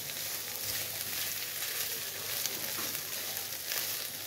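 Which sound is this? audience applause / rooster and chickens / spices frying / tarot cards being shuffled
spices frying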